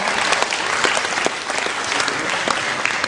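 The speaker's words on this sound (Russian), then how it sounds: "Great, give yourselves a hand." Loud, continuous applause from a seminar audience at a business leadership event fills the room, dense clapping steady throughout with no voices over it.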